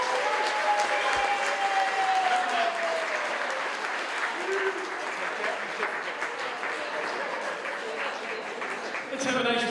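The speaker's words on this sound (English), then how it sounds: "Let's have a nice round of applause for those very kind words from everybody" Wedding guests applaud after a speech, a steady round of clapping that carries on for several seconds while a voice talks over it.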